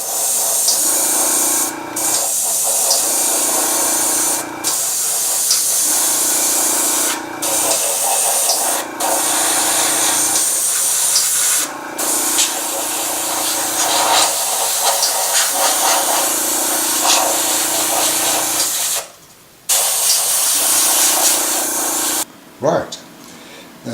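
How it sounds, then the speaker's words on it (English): Steady airbrush hiss spraying paint onto a masked miniature model in repeated bursts of a few seconds each, separated by brief pauses, close and fairly loud. "you'll actually blow the spray paint under the masking"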